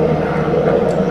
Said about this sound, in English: And listen to the helicopters fly over.